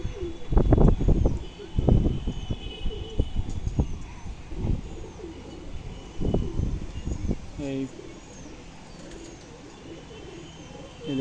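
Female pigeons in a loft coo in repeated low throaty bursts near the start, then softer burbling and faint chirps continue under light background noise.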